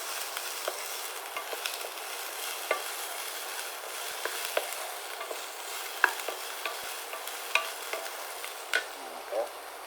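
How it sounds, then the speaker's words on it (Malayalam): Vegetables for upma sauté in a pan with a soft, constant sizzle, scattered with light clicks and scrapes of stirring, close and steady. "സോട്ട് ചെയ്താൽ ജസ്റ്റ് ഒന്ന് സോട്ട് ചെയ്താൽ മതി"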